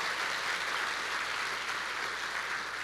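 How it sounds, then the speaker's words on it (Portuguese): A church congregation applauding, a continuous dense roar of many hands clapping loudly and evenly throughout. "Pode dar uma salva de palmas ao Senhor, pode fazer bem alto."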